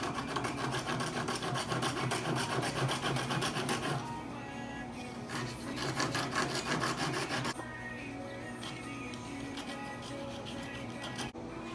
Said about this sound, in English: we'll use a round bastard file to put a nicer radius on this